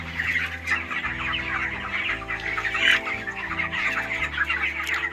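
Plump broiler chickens and roosters cluck steadily in a poultry shed, a dense, continuous flock chatter with overlapping calls and no talking.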